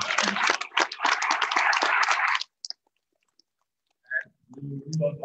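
A conference audience applauds a distinguished panel at a plenary session, with dense, close clapping lasting about two and a half seconds before it stops abruptly, followed by a few faint clicks and quiet talking.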